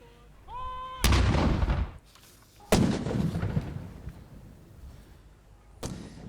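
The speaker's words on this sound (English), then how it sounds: "fired the shots from 6 howitzer cannons" Howitzer cannons firing shots in a 41-gun salute by a military guard, three loud sharp booms spaced apart, each trailing into a long echoing rumble, with faint tones before the first shot.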